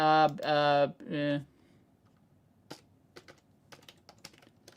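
A computer keyboard in need of repair is tapped in sparse, scattered clicks after a short stretch of speech, the keystrokes faint and irregular.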